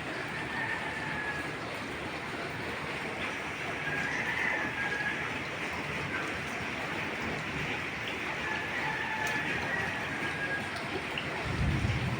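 Steady rain falls throughout, a continuous broadband hiss with no voices and a faint low rumble near the end.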